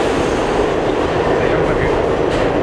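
Subway train on a New York metro line braking: a loud, dense rumble with rattling cars and screeching from inside, heard alongside other riders' speech.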